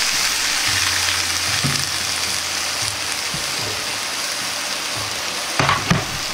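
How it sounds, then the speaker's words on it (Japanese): Vegetables stir-fry in a wok as a splash of Shaoxing wine goes in. A steady, bright sizzle fills the clip, with light stirring clicks and a brief burst of sputtering near the end. "紹興酒または酒を小さじ1入れます。"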